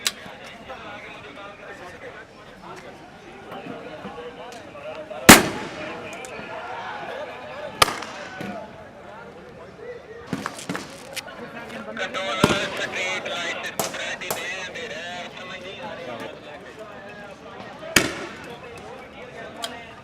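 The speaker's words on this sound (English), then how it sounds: "The police is still firing grenades." Police fire grenades during street clashes in Islamabad, sharp loud bangs going off every few seconds at mid distance over crowd noise, while people talk close by.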